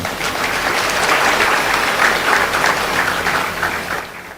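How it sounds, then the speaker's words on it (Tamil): A full hall of listeners at a Tamil talk claps together in steady, dense applause that holds at an even level throughout. "ஒரு அரங்கம் முழுவதும் சேர்ந்து கைத்தட்டல் கொடுங்க"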